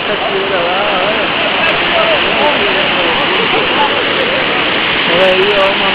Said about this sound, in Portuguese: olha lá, cachoeira lá, olha